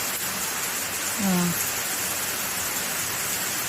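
Rain falling outdoors around a yard where chickens shelter, a steady broad hiss throughout, with a short vocal sound briefly rising over it near the middle.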